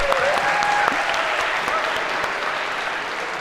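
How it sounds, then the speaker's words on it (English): Applause from a lecture-hall audience at a CS50 computer science class, a dense steady clapping that fills the space and slowly tapers off toward the end. "A round of applause, because that was difficult."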